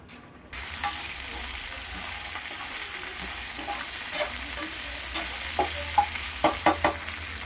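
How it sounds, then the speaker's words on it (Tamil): Garlic, dried red chillies, curry leaves and tomatoes roasting in a pan for a garlic pepper kuzhambu, with a steady close sizzle and a few sharp stirring scrapes and clicks toward the end; no talk. "எல்லாத்தையும் இதை நல்லா வறுத்து எடுத்துக்கலாம்"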